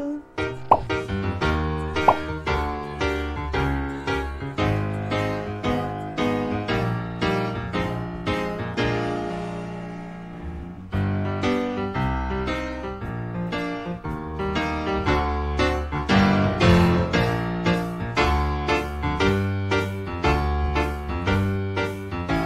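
An isolated piano part from a song plays alone, with steady chords marking the beat, a brief thinner passage near the middle, then full, strongly struck chords again.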